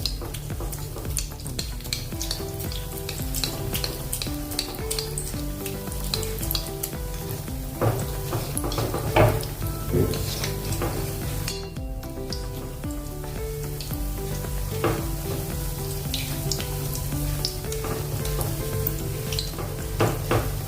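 Moong dal pakodi fry in oil with a dense, continuous crackling sizzle and occasional stirring clinks, heard close and steady under a bed of background music.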